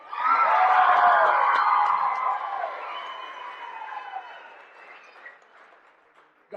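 An arena crowd at a Hawaii MMA championship event cheers and applauds for the fighter, a loud burst of clapping and shouting that swells at once and then slowly fades over several seconds.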